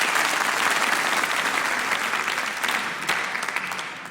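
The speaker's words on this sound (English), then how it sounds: "Another round of applause, please" A large audience applauds loudly and steadily at a young choristers competition final, with sustained clapping that slowly thins out toward the end, no talking over it.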